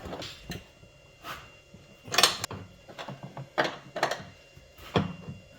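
A wrench tightens the top strut nuts on a 2005-2009 Hyundai Tucson during front strut replacement, giving a series of close, sharp metallic clicks and ratcheting clacks in uneven bursts.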